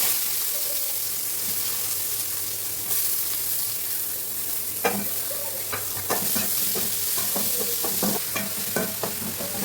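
Fennel seeds and onion frying in oil at the start of a mushroom gravy, a steady close sizzle with many sharp crackles and stirring scrapes that grow busier in the second half, with no talk.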